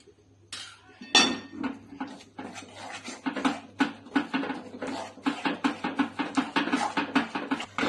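Jaggery and ghee roasting in a pan for peanut chikki, with a spoon scraping and clinking against the metal in a steady, busy rhythm of close taps and scrapes, with no talking.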